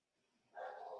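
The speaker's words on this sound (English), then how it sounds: "I apologize for the dogs." A dog barks faintly in the background of a room, one brief muffled bark burst after a near-silent start.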